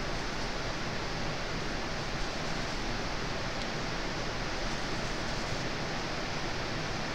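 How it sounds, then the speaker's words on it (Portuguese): Heavy rain roaring like a waterfall outside an upstairs studio in a city-centre hotel building, heard as a loud, steady, unbroken hiss with no voices. "esse barulho da chuva tá parecendo que você tá perto de uma cachoeira"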